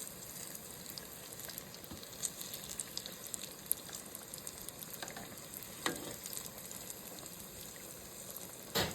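Apple fritters fry in hot oil with a soft, continuous sizzle and scattered small crackles and pops. The sound stays faint throughout, with no voices.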